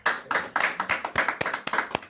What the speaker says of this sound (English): a round of applause for a great ministration there